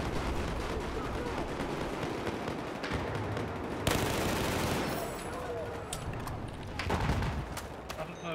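Dense bursts of light machine gun fire from a tactical first-person shooter round, rattling steadily and close for most of the stretch, with louder volleys near the middle and end, over faint voice chat.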